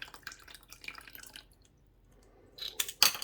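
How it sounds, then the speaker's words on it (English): Water is pushed with a blunt syringe through a fountain pen converter, giving soft irregular drips and splutters that end in a couple of sharper, louder squirts, close up with no talking. "You just put your syringe in there and blow some water through"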